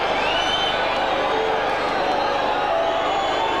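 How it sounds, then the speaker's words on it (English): A large football crowd at the Wrexham v Middlesbrough FA Cup third-round match in December 1999 roars and cheers steadily, a broad loud wash of voices with a commentator talking over it. "What a crowd."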